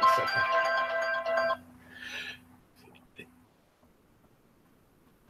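A phone ringtone rings in repeated melodic bursts for about a second and a half, then fades, under and between a man's speech in a quiet room.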